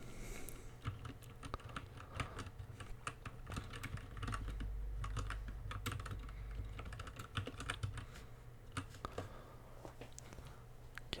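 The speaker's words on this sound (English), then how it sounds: "sorry if the typing is too loud" Close, steady ASMR typing on a computer keyboard, rapid clicking keystrokes going on continuously with no one speaking.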